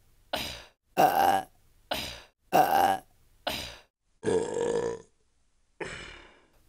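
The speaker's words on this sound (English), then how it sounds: "Okay, I got a burp." A string of loud, gravelly burps comes one after another, about seven in all, separated by short pauses, close to the mic.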